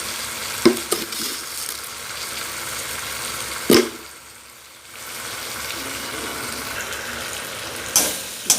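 Spice masala with turmeric sautéing in a pan for a cabbage, potato and pea curry, a steady sizzle with occasional sharp clinks and scrapes of a spoon.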